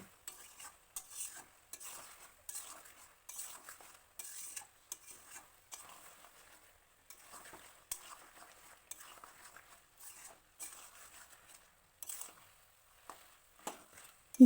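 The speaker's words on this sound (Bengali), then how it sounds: "অল্প পরিমাণ জল দিয়ে এইভাবেই কষাতে হবে" Mutton curry being stirred and sautéed in a pot with a little water, a spoon scraping in bursts of rhythmic stirring over a soft sizzle, close and moderately loud with no talking.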